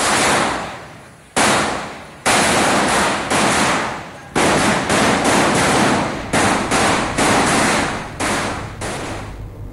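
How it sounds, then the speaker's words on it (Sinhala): Firecrackers burst at night in loud, sharp bangs followed by rapid crackling strings, several bursts in a row with short gaps, close and echoing. "වතුකඩේ ජනතාව ඊයේ රාත්‍රියේ රතිඤ්ඤා දල්වමින් ප්‍රීති වූ ආකාරයයි මේ"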